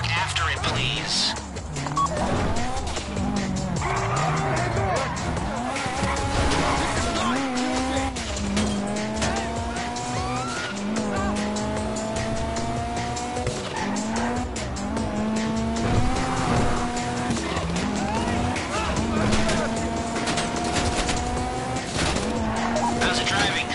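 Car driven hard in Grand Theft Auto V, engine note climbing and falling through gear changes with repeated tire squeals and skids, loud and continuous under a game soundtrack and occasional talk.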